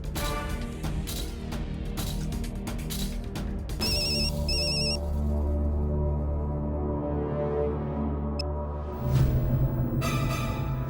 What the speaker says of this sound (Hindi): एक काम करता हूँ, मैं उसे फिर से फोन करता हूँ।